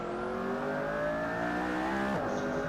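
A McLaren P1 hypercar revs hard on the Silverstone circuit in Assetto Corsa, its engine note climbing steadily and loud, then dropping sharply on a gear change near the end, with no voices.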